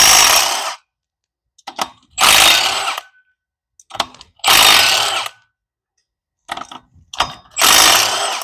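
A power tool in a workshop removes a Ford Performance flywheel in four loud, close bursts of rattling impact, each roughly a second long, separated by quiet gaps with light metallic clinks and handling noises.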